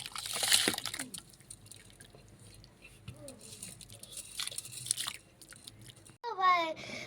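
Rice grains are rubbed and swished with water in a cooking pot, producing soft gritty crunching and wet sloshing close up, with a voice speaking briefly near the end.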